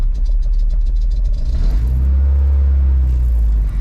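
A 1996–2000 Honda Civic with a swapped JDM B20B engine and a restrictive exhaust, running loud and close: a ticking idle rises into a deep, throaty rev that holds as a sustained rumble.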